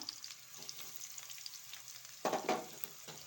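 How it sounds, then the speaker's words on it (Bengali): Chopped onions sizzle softly in hot oil in a wok, being fried crisp, a faint steady crackle with a louder stir-and-hiss pair of bursts midway. "এবার আমি যে পেঁয়াজটা কুচিয়ে রেখেছিলাম এই পেঁয়াজটা আমি দেব এটা দিচ্ছি আমি বেরেস্তা করার জন্য"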